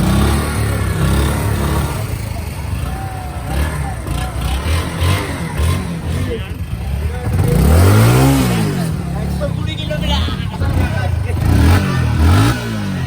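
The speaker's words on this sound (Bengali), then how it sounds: "রেস দেওয়া হচ্ছে এখন বুলেটকে সবার ইঞ্জিন গরম করা হচ্ছে" Several Royal Enfield Bullet motorcycles revving their engines to warm up before an off-road ride in hilly terrain, loud throaty rises and falls with rumbling idle, voices talking nearby throughout.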